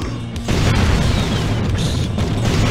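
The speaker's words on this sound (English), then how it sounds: "Oh yeah, sweep the ground and then explosion." Heavy, booming explosion from a laser weapon in the video game Iji, a deep rumbling blast that starts sharply and sustains loud and close for a couple of seconds.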